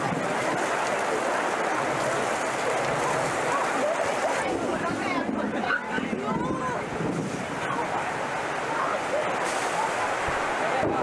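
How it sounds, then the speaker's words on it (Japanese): Torrential rain pours down on a Boy Scout jamboree campsite in Japan, a dense, steady roar of heavy rain and wind buffeting the tents, with voices faintly audible beneath the downpour. "雲があっという間に空を覆い滝のような雨を降らせたのです"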